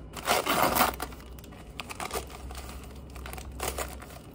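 Packaging crinkles and crumples in uneven bursts, with loud rustling at first and then softer, scattered crackles with quiet pauses between them.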